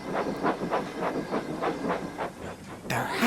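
A steam locomotive shunts, chuffing in a steady rhythmic series of about ten exhaust beats, moderately close, before a sharper burst of hissing steam at the end.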